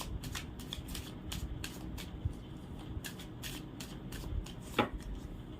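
Tarot cards shuffled by hand during a reading, a steady run of soft riffling flicks and slaps with a slightly louder burst near the end, close and fairly quiet with no talking.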